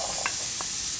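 Onions and christophine frying in a pot give a steady close sizzle with brief stirring scrapes, no talking.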